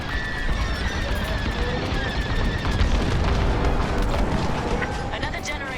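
A shield generator blowing up in the Star Wars: Squadrons space combat game, a heavy, sustained rumbling explosion mixed with crackling blasts and a busy battle din throughout.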